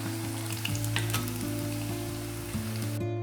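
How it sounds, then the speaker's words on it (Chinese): Tofu cubes deep-frying over medium heat in a small pot of oil at about 160 °C, a steady close, dense sizzle and crackle throughout with no voices, cutting off abruptly at the end. "中火炸到豆腐表面金黄"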